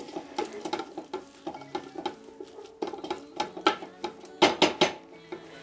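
A pan of food is fried and stirred over a wood fire while making a Mapuche chicken cazuela with locro. Close, repeated metallic scrapes and clatters carry through the whole stretch over a faint sizzle, with no voices.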